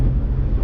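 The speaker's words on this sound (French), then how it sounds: "Vous entendez les vagues qui cognent contre la coque du bateau." Waves slap against the hull of a boat, heard as a steady low rumble with dull thumps, wind buffeting the microphone throughout and no voices.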